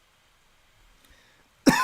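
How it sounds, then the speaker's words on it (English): A single short cough, close to the microphone and fairly loud, bursting out after near-silence at the end. "And yes, folks, I just coughed."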